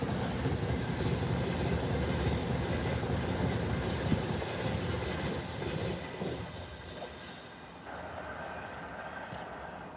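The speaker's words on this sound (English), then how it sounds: "And there goes the Pendolino." A Pendolino electric train rushes past on the rail line, a loud, steady rumble of wheels and carriages that gradually fades as it moves away.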